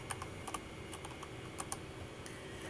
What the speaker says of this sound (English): I'll just double-click right there on Microsoft PowerPoint and type in Keynote.